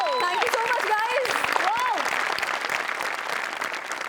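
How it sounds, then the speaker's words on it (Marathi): A studio audience at the Marathi comedy show Maharashtra Chi Hasya Jatra gives loud, steady applause throughout. Voices speak and call out over the clapping. "त्या दोघांसाठी सुद्धा जोरदार टाळ्या झाल्या पाहिजे"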